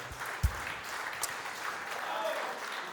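An audience applauds to welcome Harut Voskanyan, a moderate, steady wash of clapping with a sharp knock near the start and faint voices mixed in.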